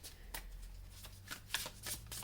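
Tarot cards are shuffled and drawn by hand in a quiet room: soft, scattered riffles and sharp card flicks in short irregular bursts, close and faint, with no talking.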